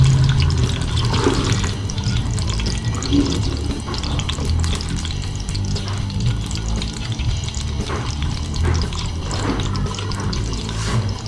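Chopped tomatoes hit hot oil for a Bhopal-style achari beef curry, giving a steady, dense sizzle and crackle that runs unbroken throughout, with no voices.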